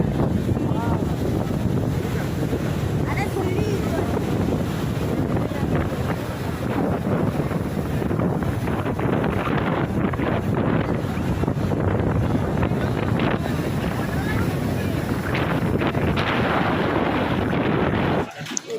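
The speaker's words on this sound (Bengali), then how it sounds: "জলের ঢেউগুলো পাড়ে আছড়ে পড়ছে" Sea waves break steadily on the shore at Digha beach, a continuous loud roar mixed with heavy wind buffeting the microphone, with occasional faint voices.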